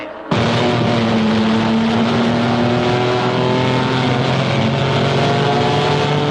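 Several racing cars scream down the straight with loud, sustained engine notes whose pitch slides steadily as they run close together, a continuous near roar with no voices.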